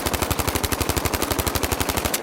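A ZK submachine gun in Battlefield 5 fires one long, rapid full-auto burst into a wall, each shot a loud, close, evenly spaced crack in a fast steady rhythm with no voices.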